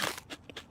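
Crunchy cat food cupcake being bitten and chewed in a cartoon, a few short dry crunches in quick succession, close and fairly loud with no talk.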